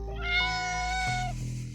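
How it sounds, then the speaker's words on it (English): Cat gives a single drawn-out meow that rises and then dips near the end, clear and fairly close against a quiet room with a low steady hum. "The pet finally stepped into the room and let out a single meow"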